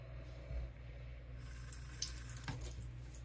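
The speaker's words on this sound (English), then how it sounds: "we're gonna use cool water, not hot water" Cool water runs steadily from a tap into a sink in a quiet room, a faint continuous splashing rush with a few small clinks, no voices present.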